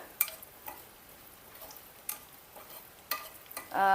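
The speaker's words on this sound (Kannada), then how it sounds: "ಗೋಡಂಬಿ ದ್ರಾಕ್ಷಿ ಹುರಿಯೋಕ್ಕೆ ಎಷ್ಟು ಬೇಕಲ್ಲ ಅಷ್ಟೇ ಅಷ್ಟು ತುಪ್ಪ ಸೇರಿಸ್ಕೊಂಡು ನಾನು ಹುರ್ಕೊಳತ್ತೇನೆ" Cashews and raisins frying in ghee for beetroot halwa: a soft, steady sizzle with occasional sharp clicks as the pieces are stirred in the pan, close and quiet, with no speech.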